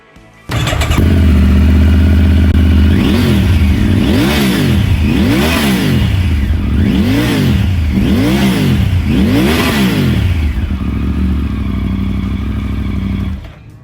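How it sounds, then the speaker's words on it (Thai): A 2021 Triumph Tiger 900 Rally Pro motorcycle engine idles loudly nearby and is revved repeatedly, about five rising and falling blips in a steady rhythm before settling. "เดี๋ยวมาฟังเสียงเครื่องยนต์กันหน่อยนะ"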